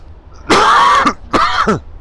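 A man gives two loud, close coughs in quick succession, each a harsh rasping burst ending in a throaty catch, with no other talk around them.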